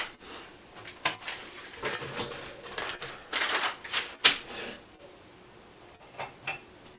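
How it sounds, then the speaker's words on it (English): Pen or pencil scratching and tapping on a piece of paper, close and fairly loud in quick irregular strokes and taps, with no voice over it. "let me get a piece of paper, I'll just write it out for you"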